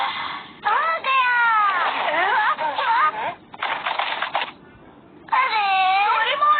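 Kittens in a Doraemon cartoon mew in several high, wavering cries, loud and close, with short gaps between them.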